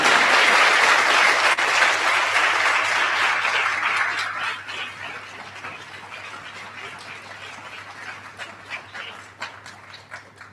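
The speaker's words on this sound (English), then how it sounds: "Yes, you could applaud." Audience applause at an AI contest event for students and educators, loud and dense at first, then thinning into scattered claps, with a dog barking faintly amid it.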